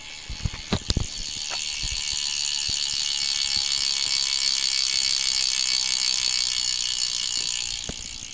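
A few separate clicks, then a rapid, continuous buzzing ratchet from the freewheeling rear hub of a 2022 Scott Addict RC 10 road bike that holds steady and fades near the end.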